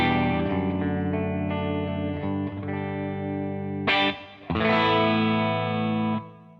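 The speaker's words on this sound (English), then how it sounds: "on the clean channel, the way that I've got it set up is just on the verge of breakup, and it sounds like this." A Les Paul electric guitar played through the clean channel of a Victory V50 amp, set just on the verge of breakup: sustained strummed chords ring out loud and close with slight grit, a brief pause near four seconds, then another chord that rings and cuts off.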